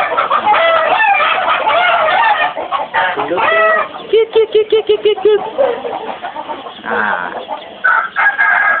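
Chickens cluck in quick repeated bursts close by, mixed with a rooster's crowing, while a person briefly speaks over the birds.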